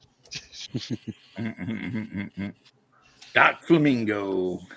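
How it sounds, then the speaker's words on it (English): A female dog whines in a high, wavering cry near the end, following a stretch of people talking indoors. "A dog. She's whining."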